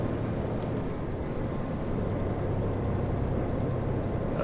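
A Mack Anthem truck in American Truck Simulator drones with a steady, loud, rumbling engine tone that holds evenly throughout, with no talk.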